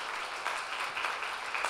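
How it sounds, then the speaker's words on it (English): Audience applause at a wedding vow renewal ceremony honoring a couple married 40 years, a steady wash of many hands clapping at moderate distance, fairly even throughout with no talk over it. "You can clap for that."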